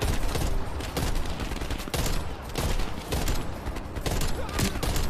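Rapid gunfire in the video game Call of Duty Black Ops Cold War, dense bursts of loud automatic shots crackling nonstop across the whole stretch with brief gaps between volleys.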